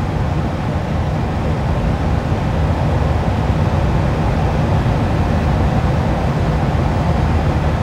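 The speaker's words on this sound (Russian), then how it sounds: "4000 оборотов в минуту. Это кайф. Движок проснулся." ZMZ 405 Euro 3 engine of a Sobol 4x4 van held at high revs while driving, a loud, steady broadband drone with constant low rumble throughout, no pauses or voices.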